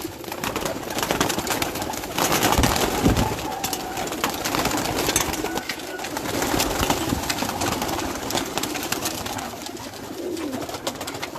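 Khaki pigeons coo around a farm house in Islamabad, a soft steady cooing mixed with other bird calls and outdoor background noise, with no talking.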